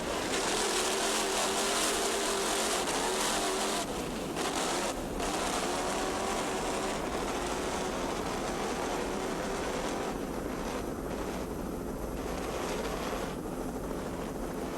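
Offshore racing powerboats with Mercury drives roar past at the 1998 Key West Offshore World Championships, a dense, loud, continuous engine drone mixed with water rush that shifts slightly as the boats run.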